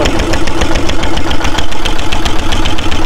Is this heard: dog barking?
no